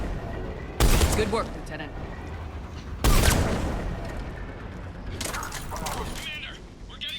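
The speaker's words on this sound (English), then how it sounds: "Commander, we're getting a lot of mortar fire." Bursts of gunfire and heavy mortar impacts in a Mass Effect 3 battle, with two loud blasts a couple of seconds apart over steady rattling combat noise, then quieter firing while a voice speaks briefly.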